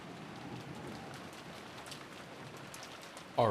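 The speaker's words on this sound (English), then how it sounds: "The rain sounds very relaxing." Steady rain falls on a surface as a soft, continuous hiss with faint scattered drops, heard alone at a low level until a brief louder tonal sound cuts in at the very end.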